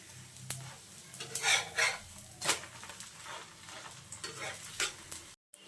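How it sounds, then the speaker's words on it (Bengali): An egg paratha fries in a hot pan with steady sizzling, while a spatula presses and turns it in several scraping bursts, close and moderately loud. "এখন আমি উল্টে পাল্টে খুন্তি দিয়ে চেপে চেপে খুব সুন্দরভাবে পরোটাটা ভেজে নেব।"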